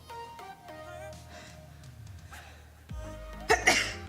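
A single sharp sneeze bursts out near the end after a quiet stretch with faint tonal background sounds.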